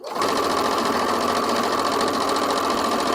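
A sewing machine runs fast with a long stitch length, a loud, continuous whirring hum with rapid rhythmic needle chatter, close up and alone for the whole stretch.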